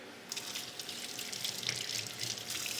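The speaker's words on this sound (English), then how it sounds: "So I wash my hands again." Hands are washed under a running kitchen tap while cooking dinner, a steady close splash and patter of water that starts abruptly and continues without talk.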